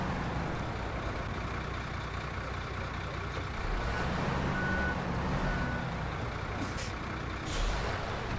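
A heavy truck backs up to drop its trailer in the game SnowRunner, with a steady engine rumble, a hiss of air brakes and intermittent reversing beeps, close and continuous.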